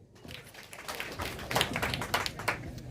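A gathering audience claps together in dense, steady applause that swells around the middle and keeps going throughout, with no voices over it.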